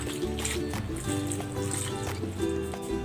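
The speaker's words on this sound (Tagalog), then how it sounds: "Lagyan ko na ng tubig." Water pours steadily into a pot of wrapped suman (sticky rice cakes) for cooking, a continuous trickling splash, close by, over a faint background hum.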